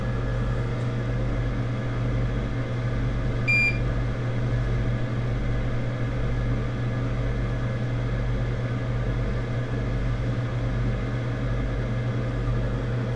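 A heated soldering iron station gives one short, clear electronic beep over a steady low electrical hum at a repair bench for a liquid-damaged MacBook.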